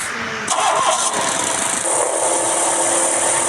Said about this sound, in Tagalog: Yan po ang ating motor.